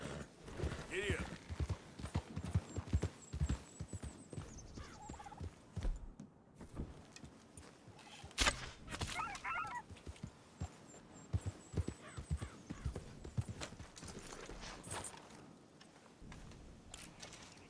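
A horse's hooves gallop in Red Dead Redemption II as a rhythmic clip-clop, with snorts and short whinnies at moments. Loud speech plays throughout.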